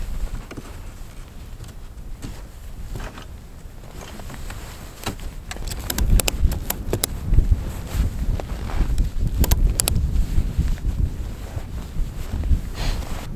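Strong, gusting wind whips across a snowy winter campsite with a hot tent, buffeting the microphone in a steady rush that swells into louder gusts with sharp flapping bursts; no talking.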